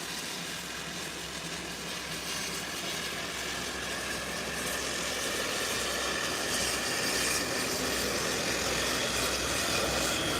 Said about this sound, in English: This is the Brasilia Embraer 120.